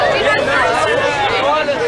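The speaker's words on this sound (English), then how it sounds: "a crowd of drunk and noisy teenagers has begun to gather" A crowd of drunk, noisy teenagers gathers at a night-time accident scene, their overlapping chatter and shouts forming a dense, steady babble close by for the whole stretch.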